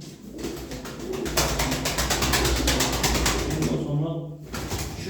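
Tumbler pigeons coo repeatedly at close range, their soft throaty calls forming a continuous rhythmic chorus while someone talks over them.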